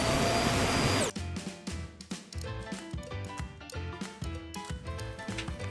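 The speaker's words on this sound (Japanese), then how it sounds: "溝を掃除しながら掃除機で吸い取っていきます" Vacuum cleaner sucking sawdust out of grooves cut into a ceiling pillar for a homemade FRP camper, a loud, steady roar lasting about a second before it cuts off and music takes over.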